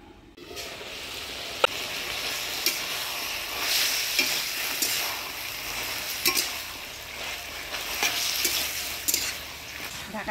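Tender bottle gourd shoots cook covered in a pan for a Bengali village fish curry, giving a steady soft sizzle with scattered small pops and ticks throughout, no voices.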